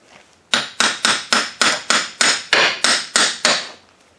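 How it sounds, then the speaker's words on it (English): Ten evenly spaced, sharp metallic hammer blows ring out close and loud, driving the axle on a 2007 Toyota Yaris, each strike decaying quickly before the next. "we're just going to smack in the axle a bit, make sure she moves"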